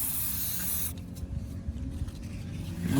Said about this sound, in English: So just some MAF cleaner, just the CRC, and we'll give it a spray inside